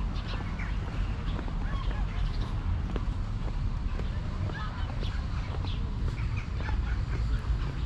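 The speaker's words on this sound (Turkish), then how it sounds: "Ördekler yoğunlukta. Kuşlar var." Ducks quacking and honking intermittently amid flowing river water and outdoor ambience in Avanos, Cappadocia, Turkey, with a voice talking over them.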